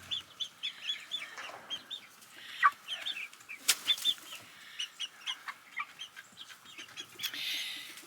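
Chickens cluck and chirp repeatedly at close range in a coop doorway, with bursts of wing flapping mixed in among the birds' busy calls.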